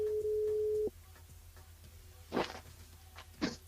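A single steady telephone tone sounds loud and clear for just under a second after an unassigned number recording on a live radio phone-in call, followed by faint rustling and two brief soft bumps.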